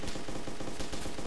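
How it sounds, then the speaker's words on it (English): Rapid, continuous video game gunfire in DayZ crackles throughout, a dense burst of shots with no pauses, loud and close. "See more gunshots. Yeah, he's shooting at me."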